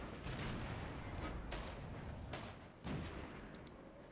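Tank gunfire in the World of Tanks video game, several sharp distant booming shots spaced irregularly over a continuous rumbling battle background, no talk.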